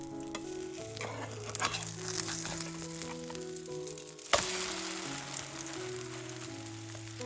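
A Kerala-style egg omelette fries on low heat in a pan, a soft steady sizzle with faint crackles, one sharper scrape or clatter midway, quiet and close without talk.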